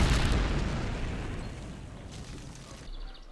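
A large C4 blast goes off to uproot a 300-year-old tree stump, a sudden heavy boom that rolls out into a long fading rumble, heard alone.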